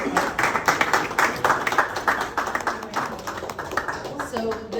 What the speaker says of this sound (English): I want to give you a big hand of applause and give each other a hand of applause